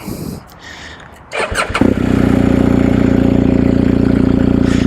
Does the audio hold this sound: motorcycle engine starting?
yes